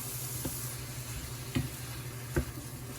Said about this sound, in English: I'm going to be adding my corn to allow that to heat up a little bit.